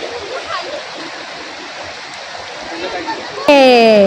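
A rain-swollen stream in a Konkan village rushes and splashes in a constant close roar, and a voice cuts in briefly at the very end.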